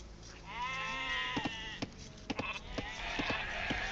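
Sheep in Age of Empires II give a clear, wavering bleat, then a run of sharp clicks and taps from gameplay, all fairly faint.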